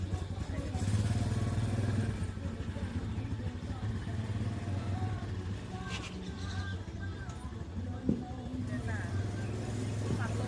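A Thai three-wheeler's engine runs steadily with a low, throbbing drone as the throttle is worked, loud and close, while someone talks over it throughout.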